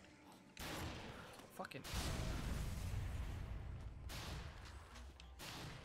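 Shotgun fire in a zombie video game. Bursts of loud blasts crowd together with crashes and smashing in the game, and a man curses briefly over the noise.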